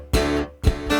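Two loud, sharply struck guitar chords, each ringing out with a bright, repeating quarter-note stereo delay echo trailing after it.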